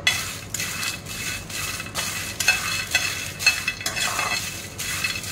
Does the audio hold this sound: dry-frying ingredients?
yes